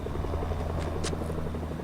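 A helicopter in the Fortnite video game hums with a steady, low rotor drone, a faint but continuous thrum with brief higher clicks over it.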